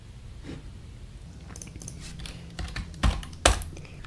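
Keys tapped on a computer keyboard while parameter names are entered in optical design software, a few soft scattered clicks building to two sharper, louder strokes near the end.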